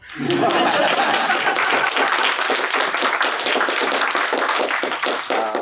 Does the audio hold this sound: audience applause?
yes